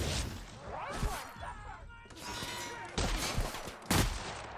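Several sharp gunshots and bursts of fire ring out in The Outer Worlds game, fairly loud and irregular, with impacts and rumble between shots.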